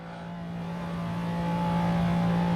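A McLaren F1 engine in the Assetto Corsa video game, accelerating hard at very high speed on the Nordschleife, a steady high-pitched engine drone that climbs and grows louder, with no other sounds.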